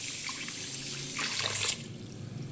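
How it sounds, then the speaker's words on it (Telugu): Water streams from a tap or jug into a vessel holding measured, soaked rice, a steady splashing pour that swells briefly in the middle before easing to a trickle, close and alone. "వాటర్ కొద్దిగా పోసి"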